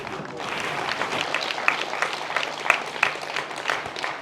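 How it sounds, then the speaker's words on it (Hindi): An audience applauds a speech, with dense steady clapping from many hands and a few sharper individual claps standing out, fairly close and sustained throughout. "अभी तालियां बहुत बजा रहे हो।"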